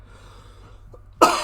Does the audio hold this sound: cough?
yes